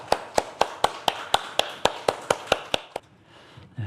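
Rhythmic unison clapping from a church congregation at a Sunday worship service, about twelve crisp, evenly spaced claps in quick succession, close and loud, stopping abruptly before a faint low thump.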